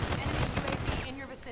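Rapid gunfire in Call of Duty: Infinite Warfare, a close burst of several sharp shots over about a second before cutting off into a quieter tail.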